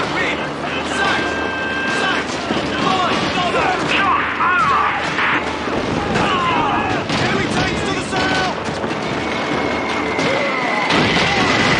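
A Call of Duty 2 artillery barrage rumbles and booms steadily through a dense wartime battle soundscape, with gunfire crackling throughout and voices shouting underneath.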